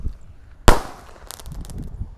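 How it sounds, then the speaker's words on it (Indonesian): A sonic boom firework rocket fires from its launcher with one sharp, loud bang, followed by a brief crackling hiss and scattered pops as it flies off. "Ini ada pelontar sonic boom."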